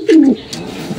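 A young racing pigeon coos once, close and fairly loud, in a short low burst, followed by quieter soft sounds.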